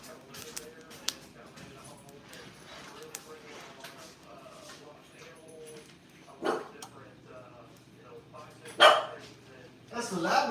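A Labradoodle barks near a wooded homeless encampment, giving a few sharp, loud barks late on among quieter yips, while people talk throughout.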